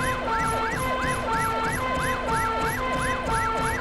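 A fire truck siren in a firefighting video game wails in a fast, repeating up-and-down pattern, loud and steady for the whole stretch, with no talking over it.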